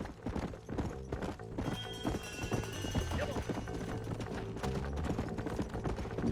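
A horse gallops at speed in the video game Red Dead Redemption 2, a quick rhythmic clip-clop of hooves with a brief whinny, fairly faint and continuous.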